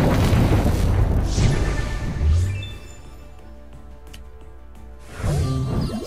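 An Electro Ball attack effect in the Pokemon TCG Online card game, with a deep booming burst that fades into soft layered electronic tones and ends with another low rumbling swell.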